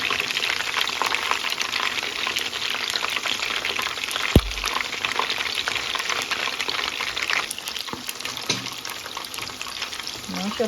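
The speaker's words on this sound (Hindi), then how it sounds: "अब इसको 3-4 मिनट ईच साइड से फ्राई करेंगे अंटिल इसे गोल्डन ब्राउन मगर मीडियम हीट पे" Spicy Southern-style fried chicken pieces fry over medium heat in a pan, a constant close bubbling sizzle with a brief clatter midway, and a voice speaks faintly at moments.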